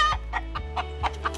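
Chickens cluck in a pen beside a beach, several short close clucks repeating in an uneven rhythm over a low steady background hum.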